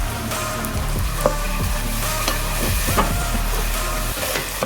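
Gobi Manchurian sauce of soy, red chilli sauce and tomato ketchup sizzles steadily in a pan over a low flame, with soft stirring scrapes and small crackles throughout.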